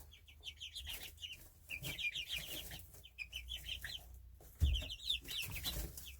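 Backyard chickens and a rooster cluck and chirp in quick, repeated bursts while pecking at sweetcorn, close by and fairly quiet, with soft bumps and rustling underneath.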